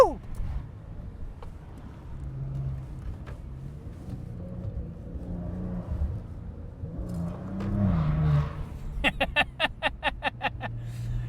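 Maserati Ghibli S Q4 with ZF automatic accelerating, a low engine drone building over several seconds before a burst of rapid ticking pulses near the end, heard from inside the car, moderately faint.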